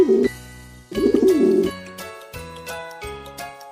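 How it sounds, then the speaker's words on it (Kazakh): Pigeon cooing comes in two short, close, warbling bursts, followed by a run of bright chiming tones that repeat at a steady pace. "Көгершін."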